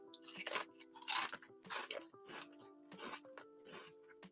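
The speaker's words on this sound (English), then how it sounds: "I'm eating Pringles." Pringles potato chips are bitten and chewed close up, with repeated crisp crunches in an uneven rhythm and quiet mouth sounds between them. No one speaks.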